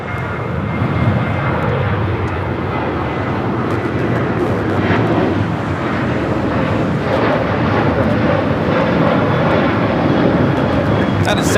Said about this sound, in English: That is Southwest Airlines 760 taking off to Phoenix on the 737-700.